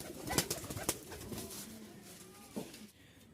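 Rajshahi Giribaz tumbler pigeons coo softly in a loft, a few low burbling calls with faint rustling and scattered sharper sounds around them.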